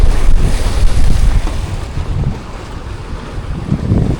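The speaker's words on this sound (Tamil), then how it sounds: "கண்ணு கெட்டின தூரம் வரையும் வெறும் கடல் தான் இந்த பக்கம்." Sea waves and strong wind on the Umm Al Quwain coast in the UAE, a loud steady rush of surf with buffeting gusts across the microphone, heard alone with no voices.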